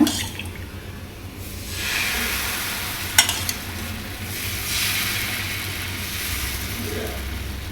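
Neer dosa batter sizzles and crackles on a hot pan, a steady bright frying hiss that swells and eases, with a sharp clink of a utensil partway through.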